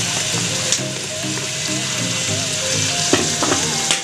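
Tomatoes fry in hot oil with browned onions in a pan, a steady close sizzle with a few stirring knocks.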